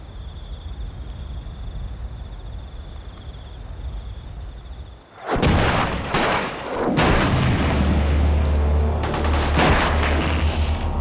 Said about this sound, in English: While some soldiers trade fire with the enemy, the rest of the patrol lay their charges